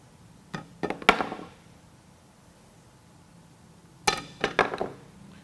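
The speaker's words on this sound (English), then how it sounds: "First test we're gonna do is the screwdriver drop." A screwdriver is dropped onto repaired wheel samples twice, each time giving a cluster of sharp hard clatters and bounces, with a quiet gap between the two drops.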